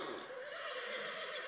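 A horse at a KFPS Friesian stallion inspection gives a loud, close neigh, a sustained wavering whinny filling the short moment with no talk over it.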